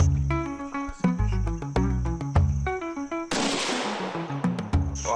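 A single loud rifle shot fired at a red duiker while hunting, a sharp blast with a trailing echo, cutting through steady chirping insects and background music.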